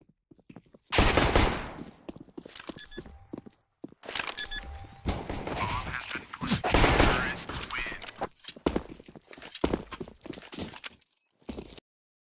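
Gunfire in a competitive shooter video game match, with bursts of rapid shots and single cracks amid footsteps and game effects, while a commentator talks over it.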